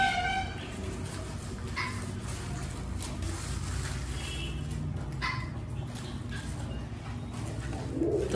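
Pigeons coo softly among a flock being fed grain, under a constant background hum, with occasional brief calls and no talking.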